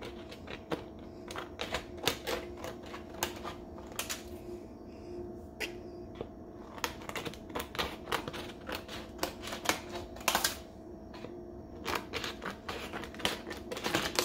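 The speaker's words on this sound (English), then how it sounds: "So now I'm actually cutting the rice paper to make sheets of bacon." Rice paper sheets being cut for vegan bacon, heard as a close, steady run of crisp snips and clicks with no talking.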